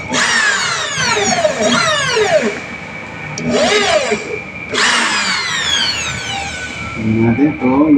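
A power drill boring a hole in a Bluetooth speaker whines in repeated bursts, its pitch rising and falling as it spins up and slows, loud and close, with brief pauses between runs.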